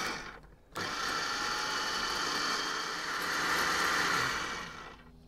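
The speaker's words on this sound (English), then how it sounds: "you blend it. Let's see if I can get a shot of it blending." A loud motorized whir starts abruptly and runs steadily for several seconds, its pitch shifting slightly as it churns, then winds down.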